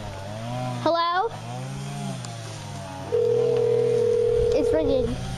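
A telephone rings on an outgoing call, a steady tone holding for a couple of seconds near the end. Talk, with rising and falling voice tones, is heard earlier in the clip.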